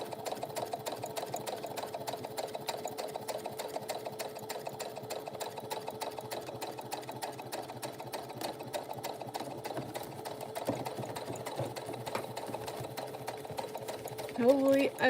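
Sewing machine stitching around the outside of a bag pocket, a steady, fairly quiet mechanical whir with a rapid needle rhythm running continuously, with a person talking over it.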